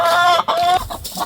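Hens cluck in short, loud, close bursts with rising squawks, a couple of calls in quick succession from a small group of four fighting over territory.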